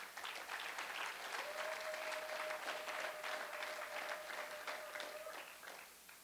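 A church congregation applauding during a Sunday service, steady faint clapping from many hands across the room, sustained for several seconds before tapering off at the end, with a thin held tone running beneath.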